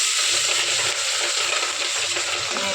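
Spices sizzle loudly in hot oil, a dense, constant crackling hiss close up that holds steady throughout.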